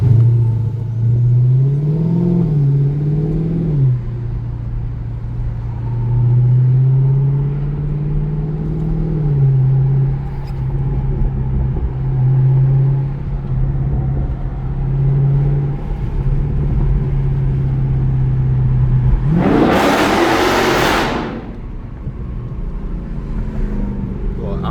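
A Dodge Charger Scat Pack V8 revs and accelerates hard, a loud droning engine note rising and falling at close range, then a sudden roaring burst as it pulls into a tunnel near the end.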